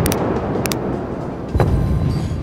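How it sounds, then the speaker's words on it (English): Battleship main guns fire in a naval war video game. Two sharp booming blasts come early in the clip, and a heavier rumbling boom follows over a loud, constant noisy background. "Fire the guns."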